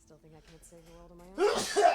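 A sharp, loud sneeze bursts out after a short stretch of speech, with a second smaller burst just after it.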